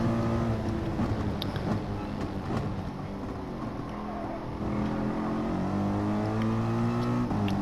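A Nissan race car pulls hard down a straight with a loud, steady engine drone whose pitch climbs toward the end, with other cars' engines blending in close behind.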